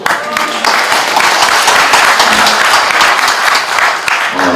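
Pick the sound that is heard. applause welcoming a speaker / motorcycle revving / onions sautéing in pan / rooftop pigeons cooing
applause welcoming a speaker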